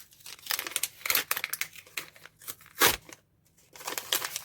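A paper shopping bag crinkles and rustles in bursts close to the listener, with brief pauses between handlings.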